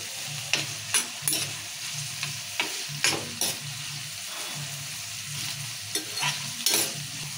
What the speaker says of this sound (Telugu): ఉల్లిగడ్డ వేసుకుందాము. ఉల్లిగడ్డలు ఇట్లా గోలించుకోవాలి.